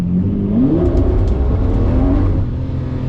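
A Lamborghini LP640 and a Tesla Model Y launching hard from a standstill, a loud, continuous engine roar rising in pitch as the car accelerates, close and dominant with no voices.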